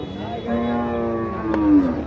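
A two-toothed cow at a cattle market in Cumilla, Bangladesh, lets out a long, low moo close by, holding steady for about two seconds before swelling slightly at the end.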